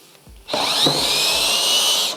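A cordless drill from a budget four-piece battery tool set drives a screw, its motor whining in a steady, loud, close run for about a second and a half after a short quiet start, with no talk.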